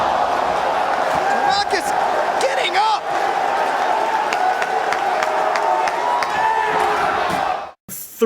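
A packed arena crowd at the ECW Heatwave '98 wrestling event roars and chants loudly and without pause, with sharp slaps and claps cutting through and people talking over the noise.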